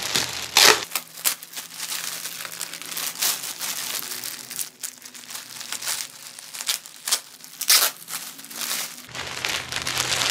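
A package of plain cotton combed t-shirts being unboxed, with plastic wrapping crinkling and rustling up close in bursts and a few sharper crackles, and no talking.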